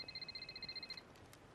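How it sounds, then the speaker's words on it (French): A mobile phone rings with a bright electronic warble, a rapid repeating trill that sounds for about one second and then cuts off, fairly loud above a quiet room. "pardon, c'est mon téléphone."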